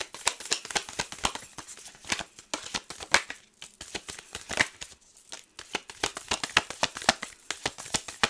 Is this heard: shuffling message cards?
yes